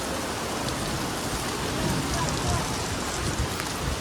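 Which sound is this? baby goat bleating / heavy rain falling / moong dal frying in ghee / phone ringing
heavy rain falling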